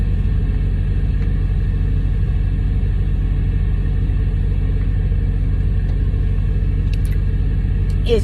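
A truck engine rumbles steadily from inside the cab, a loud, constant low idle with no talking over it.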